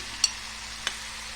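Beetroot steaming and sizzling in its own released water in a pan: a faint, steady sizzle broken by two brief stirring scrapes, close and quiet.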